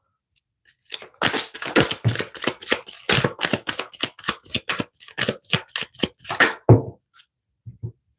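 Tarot cards are shuffled in a rapid run of crisp riffling flicks, loud and close, ending with a couple of soft taps as the deck settles.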